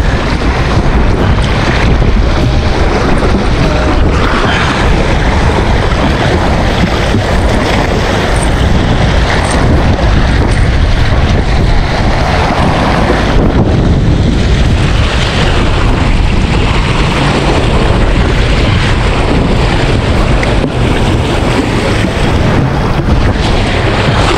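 Strong wind roars constantly into the microphone, a loud, unbroken buffeting rush with a watery, wave-like wash beneath it.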